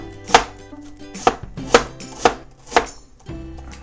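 A knife strikes a cutting board in about six sharp, close chops at an uneven, unhurried pace while ingredients are prepared for Toowoomba pasta, with quiet pauses between cuts.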